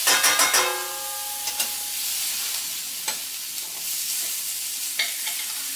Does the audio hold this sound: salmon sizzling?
yes